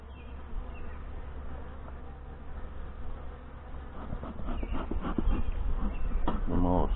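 Saskatraz honey bees hum at an opened hive during an inspection three weeks after package install, a dense continuous buzz that grows louder and closer toward the end, with a few soft handling knocks.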